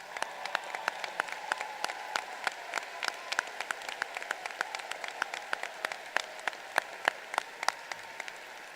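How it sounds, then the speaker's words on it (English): At a 2023 high school graduation ceremony, an audience claps with distinct, individual hand claps in a steady, moderately sparse patter that runs evenly throughout, with no talking. "I would like you to stand and receive another applause."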